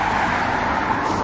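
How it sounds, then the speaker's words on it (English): Cars rush past on a cold street in a steady roadway rumble, a broad continuous whoosh of traffic heard from the roadside with no talk over it. "these cars are driving like maniacs"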